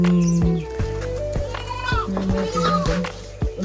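Goats bleat repeatedly at a rural Nepali home, several loud, wavering calls close by, with a voice talking between them and other farm animal noise in the background.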